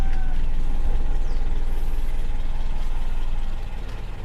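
A car engine with a carburetor runs loud and close at the exhaust tip as it is revved, a steady low rumble that eases slightly near the end, with no talking.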